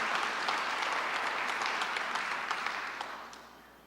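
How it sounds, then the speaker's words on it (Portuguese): A church congregation applauds during a Portuguese-language sermon, dense clapping from many people that stays steady and then fades out over the last second. "Você pode aplaudir o nome do Senhor, amados?"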